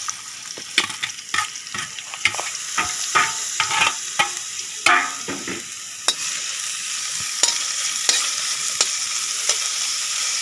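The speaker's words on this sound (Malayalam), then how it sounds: "സവാള ഒന്ന് വഴറ്റിയെടുക്കാം." Onions sautéing in coconut oil in a pan for pork fry, a steady sizzle under repeated scraping and stirring strokes of a spatula, close and fairly loud with no talk.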